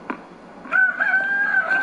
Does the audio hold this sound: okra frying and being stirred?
no